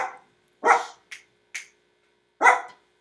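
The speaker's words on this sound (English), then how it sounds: "Sorry, my dog is barking." A dog barks in short sharp bursts nearby, two full barks with a couple of quicker yips between them, each standing alone against a quiet indoor background.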